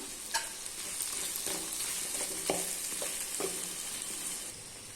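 Cooked potato mixed with poppy seed powder is stirred in a hot pan: a soft, low sizzle under a handful of distinct spoon scrapes and clicks against the metal, close by and fairly quiet.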